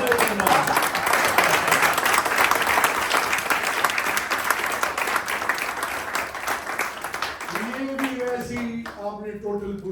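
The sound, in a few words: audience applause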